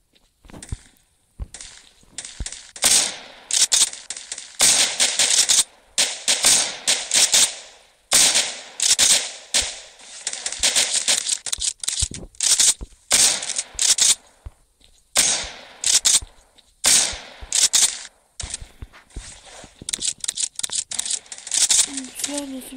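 Rapid bursts of gunfire from the video game Kuboom crackle in loud, repeated volleys with short gaps between them, sometimes in quick clusters, near and dominant throughout.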